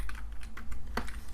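Quick typing on a computer keyboard while entering Cisco router network commands, a brisk run of close, crisp key clicks lasting just over a second with no voices.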